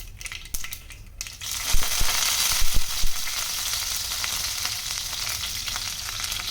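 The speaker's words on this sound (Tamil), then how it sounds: "கடுகு நல்லா பொரிஞ்சுது. இப்போது கருவேப்பிலை போட்டுக்கலாம்." Mustard seeds crackling and popping in hot oil, then a louder burst of sizzling as curry leaves go in, settling into a steady close fry.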